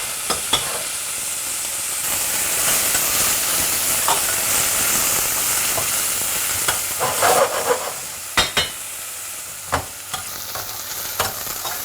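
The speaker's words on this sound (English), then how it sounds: "Keep stirring until it's pinkish, not raw either." Finely crushed onion and tomato paste frying in a pan on high heat with a steady sizzling hiss, broken by the scrape and clatter of a spoon being stirred, with several sharp knocks against the pan near the end.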